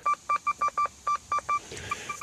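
A metal detector searching for lead and other metal in a field gives a run of eight short, evenly spaced beeps, then a couple of fainter ones over light rustling.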